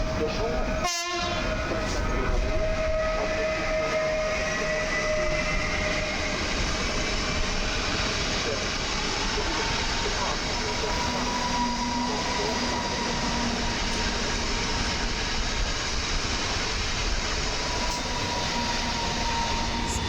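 An airport train to Modlin arrives at Warszawa Wschodnia station in winter, with a brief horn blast early on followed by a long, steady rumble of rolling wagons, clattering wheels and occasional faint wheel squeal close by.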